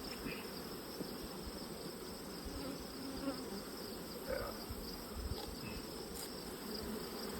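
Honeybees buzz steadily at an open hive that was recently split, a dense, constant drone close by and filling the whole stretch without pause.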